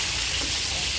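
Meat browning in a small saucepan for bean soup, a steady close hiss of frying fat with no break, alone without voices.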